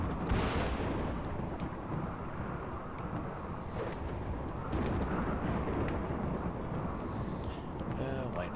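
Deep rumbling thunder from a lightning strike in the video game Rimworld, rolling continuously and loud throughout, with low crackling booms and a faint voice at the end.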